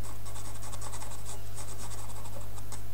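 Pastel and colored pencil scratch across paper in quick, repeated short strokes as grey is added to a drawing, close and crisp over a low steady hum.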